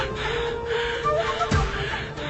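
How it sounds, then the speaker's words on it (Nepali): A rapid, frightened breathing effect from a ghost story: quick gasping breaths over a low, steady droning background, fairly close and moderately loud. "हर्के डरले झन् तीव्र गतिमा सास फेर्न थाल्यो।"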